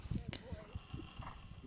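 Horse hooves strike in a rhythmic clip-clop as the horse shifts from canter down to walk during a training session, fairly close and moderately loud, with other faint noises around the footfalls.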